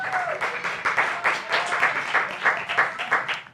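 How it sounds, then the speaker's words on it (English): An audience applauds at a live event, a moderate, rhythmic patter of clapping from a crowd, with a few voices mixed in. "So give J Star a round of applause."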